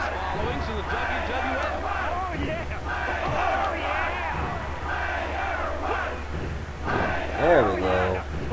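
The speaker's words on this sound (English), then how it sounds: "The crowd goes crazy." Crowd roar from the WWF Warzone wrestling video game, a steady loud arena din of cheering voices throughout, swelling near the end, with a voice talking over it.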